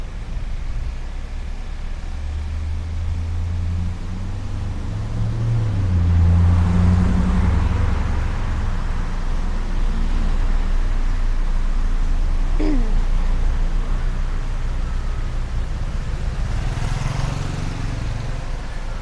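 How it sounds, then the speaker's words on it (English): Steady traffic rumble on a Bangkok street in the Silom Soi 3 area, with cars passing at close to middle distance, one rising engine swell midway and continuous low road noise throughout. "Oh, so many cars in this street."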